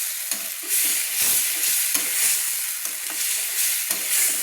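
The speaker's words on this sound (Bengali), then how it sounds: "এই মশলা জলটা দিয়ে বন্ধুরা আমি আবারও 2-3 মিনিট কিন্তু আমি কষিয়ে নিচ্ছি" Onion paste masala with added water sautés and is stirred for a Bengali fish curry, a close, steady frying hiss broken by repeated scraping stirs across the whole stretch.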